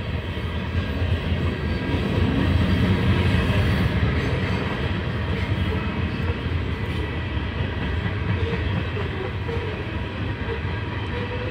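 A Norfolk Southern train passes on the Conemaugh Line with a loud, continuous rolling roar and rumble from nearby. The sound holds steady throughout, with no speech.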